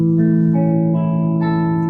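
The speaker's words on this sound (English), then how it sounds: "that's the sound of the chord that you end up getting when all of those fingers are really clear" A major barre chord strummed on guitar rings out loud and sustained, its tones shifting slightly as the strings settle, heard alone for about two seconds.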